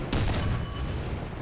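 A single heavy tank cannon blast in War Thunder booms loudly, then a deep rumbling tail fades out over the next second.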